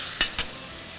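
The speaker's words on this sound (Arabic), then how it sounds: "هانا نقلب الدجاج تاعنا بدا يتقلى" Chicken frying in a pan for a cauliflower dish is turned over: two quick metallic scrapes of a utensil against the pan over a steady, faint sizzle.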